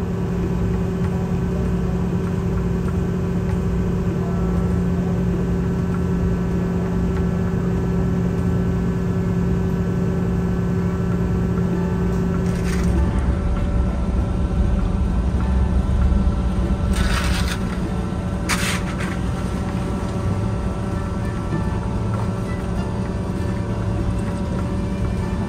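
A ferry docks at Padang Bai harbour in Karangasem, Bali, after a roughly five-hour crossing, its engines droning in a steady low hum with tonal machinery whine and a few brief clanks and rumbles partway through.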